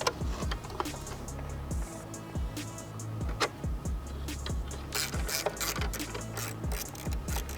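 A ratchet clicks repeatedly while bolting the DME back into a BMW F90 M5 with the S63 engine, quick rhythmic pawl ticks in short bursts with small metallic clanks, close and fairly quiet.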